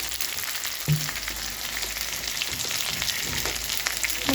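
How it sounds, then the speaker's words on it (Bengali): Potatoes and eggplant frying in a pan, a continuous near sizzle with a couple of brief stirring knocks. "মোটামুটি আলুটা ভাজা ভাজা হয়েছে, বেগুনটাও ভাজা ভাজা হয়েছে"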